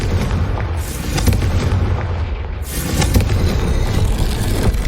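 A Confringo fire spell exploding in Hogwarts Legacy, a loud booming blast followed by a second heavy burst with rumbling low-end debris, and no talking.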